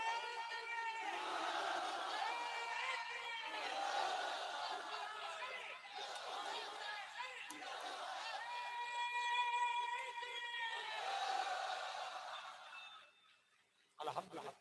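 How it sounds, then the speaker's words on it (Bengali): A crowd at a Bengali waz gathering shouts the takbir together, voices swelling in a sustained, echoing roar that rises and falls several times before cutting off abruptly near the end. "বিদায় বেলা একবার তাকবীর মারো"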